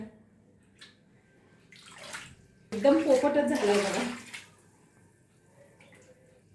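Water sloshes and pours for a couple of seconds as it is bailed out of a flooded house, close by, between quieter stretches where a person speaks.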